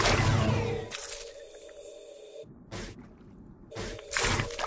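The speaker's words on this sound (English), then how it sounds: "It closes its gills to force out the water." An archer fish forcing a jet of water out through a groove in its mouth by closing its gills, heard as brief wet squirts and liquid splashes with a steady hum between them.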